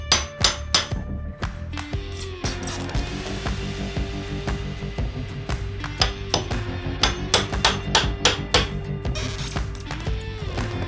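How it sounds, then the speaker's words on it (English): Nails driven with a hammer while framing a mud room converted from a porch: many sharp, close impacts in quick irregular runs, with bursts of rapid strikes through most of the stretch. "Nails fastened in there."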